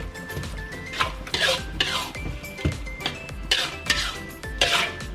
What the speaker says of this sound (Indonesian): Lalu diaduk yang rata dengan bumbu yang udah kita tumis tadi.